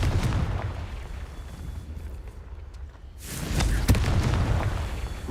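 Booming blast from a Confringo fire spell in a Harry Potter video game, a loud explosive burst after a quieter lull, with low rumble and crackling debris trailing off, no talking.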